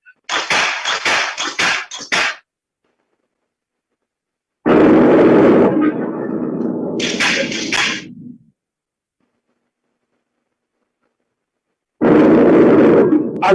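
Grenade blasts in a military training simulator, heard as two loud, deep bursts with rumbling decay, the second trailing into a longer roar, then silence before a third sharp burst at the end; a crackly noisy burst opens the sequence.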